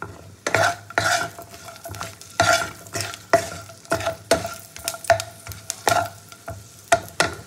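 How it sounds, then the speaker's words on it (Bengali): Cashew nuts and garlic fry in a pan for butter paneer, a spoon scraping and stirring in repeated rhythmic strokes over a bright sizzle of oil, close and fairly loud, with no speech. "কাজু বাদাম একটু ভাজা হয়ে গেলে দিয়ে দেবো রসুনগুলো"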